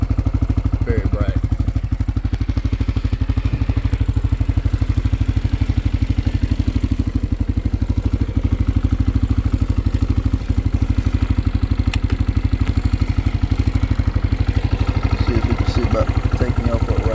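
A 2025 CFMOTO CFORCE 600 ATV engine idles and runs steadily with a low, even mechanical throb and light clatter, close and constant throughout, with no clear rise in revs.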